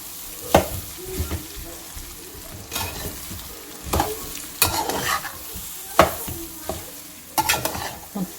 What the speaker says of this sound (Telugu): రైస్ వేసేసుకున్న స్లోగా మిక్స్ చేసుకున్నాం మంచిగా.